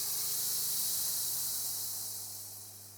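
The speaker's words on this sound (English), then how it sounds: "I'm going to turn the nozzle down to maybe 10 PSI, and I want to see what happens when we drop too low." A sprayer nozzle on a turf application rig, turned down to low pressure of about 10 PSI, gives a steady close hiss of spray with a faint low hum beneath it. The hiss fades slightly toward the end.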